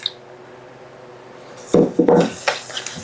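Milk, egg and vanilla being mixed into batter in a bowl, starting with quiet room tone, then loud, close scraping clatters of a utensil against the bowl in a few uneven strokes.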